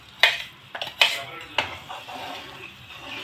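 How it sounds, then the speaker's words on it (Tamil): Bread halwa is stirred in a pan, producing a few sharp metallic clinks and scrapes of a spoon against the pan, close up and followed by quieter stirring. "இப்படி கிண்டிட வேண்டியது."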